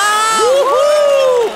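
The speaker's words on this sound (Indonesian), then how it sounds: "Kerumunan mulai bersorak gembira." A crowd bursts into joyful cheering at the announcement of Princess Anastasia, the long-lost heir to the throne, with rising, whooping voices in one brief, loud swell.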